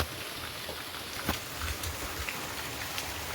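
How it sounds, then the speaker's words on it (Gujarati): Steady rain falling in the early morning hours during a power outage, a dense continuous patter with a few sharper drops standing out, fairly close and moderately loud, with no voices. "તો આજ કેવો વરસાદ પડે છે એના વિડીયો ઝાઝા આવશે વરસાદના"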